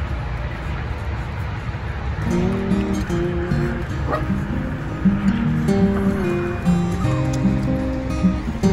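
A West Highland White Terrier, a poodle and their puppies bark and yip in a mix of high and mid-pitched calls, overlapping and fairly close over steady background noise.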